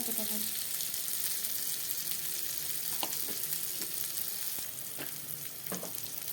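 Ground cumin fries in a pan for a liver and gizzard curry, giving a continuous soft sizzle. Scattered scrapes and taps of a spoon stirring sit on top of the sizzle, and a voice speaks briefly.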